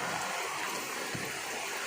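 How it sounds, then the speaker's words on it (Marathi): Rain falls steadily outdoors near an old house, a continuous, even hiss that fills the whole moment without clear individual drops or voices. "आता पाऊस आला"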